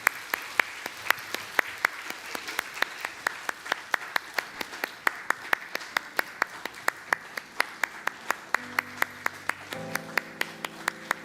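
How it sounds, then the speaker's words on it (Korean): A church congregation claps together in a steady, even rhythm, with the sharp beats going on without a break, and soft musical tones enter near the end. "수료자분들은 앞으로 나오실 때 박수로 전해 주시면 감사하겠습니다"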